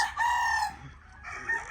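A rooster on a Philippine livestock farm crows nearby, a loud, drawn-out call that breaks briefly and then resumes.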